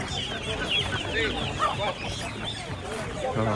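Several chickens clucking and squawking close by at a Sunday market in Lisbon, with busy market chatter and voices in the background.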